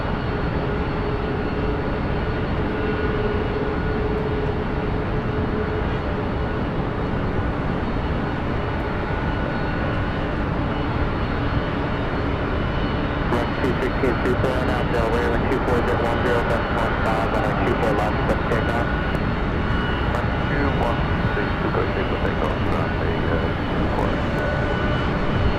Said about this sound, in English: You're also hearing another Delta 767-300ER number 2 for takeoff.